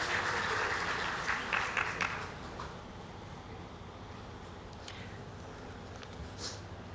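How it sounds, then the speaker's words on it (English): Applause from a conference audience for a panel and its moderator at a financial inclusion forum, a dense clapping wash that is strongest for the first two seconds and then thins into a softer, fading patter. "Another round of applause for our panelist and moderator."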